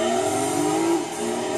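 A car engine revving hard in Gran Turismo 2, loud and close, a sustained sporty drone that climbs in pitch then eases off slightly, with no talk.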